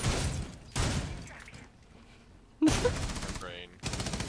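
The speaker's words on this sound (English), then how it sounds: "now he's using a shotgun to make holes" Shotgun blasts tearing holes in walls during a Rainbow Six Siege match, several loud separate bursts spaced apart with quieter gaps between them.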